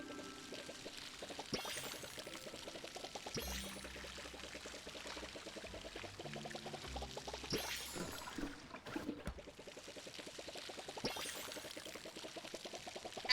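A watering can pours water in Palia, a steady, gentle trickling stream that carries on throughout alongside soft background game music, with no talk.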